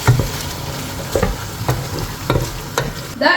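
Repeated scraping and clinking of a spoon stirring yogurt into a thick curry in a pot, with a soft sizzle underneath and a louder clatter at the end.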